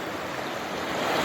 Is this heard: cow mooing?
no